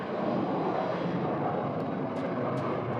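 An Air National Guard KC-135 at Phoenix Sky Harbor Airport, a broad steady jet engine rumble heard from a distance, even and sustained for a few seconds with no speech.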